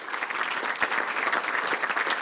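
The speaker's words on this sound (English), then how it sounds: "So please, a round of applause for them." Steady, moderately loud applause from an audience at a regional chamber of commerce annual meeting, with even clapping throughout and no voices on top.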